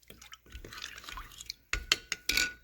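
Water trickles and drips into Hungarian paprika powder mixed with cayenne in a kitchen, a few soft pours followed by several sharp close drips and splashes near the end.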